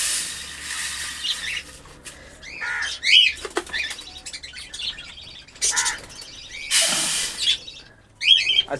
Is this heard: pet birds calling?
yes